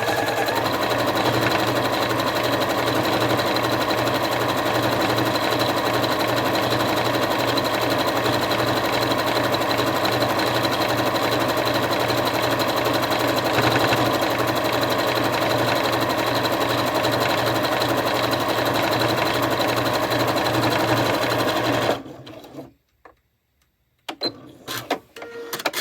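A sewing machine runs steadily for about twenty-two seconds while top stitching a dog collar, its loud, even motor whir holding without pause before it cuts off into near silence and a few faint handling clicks.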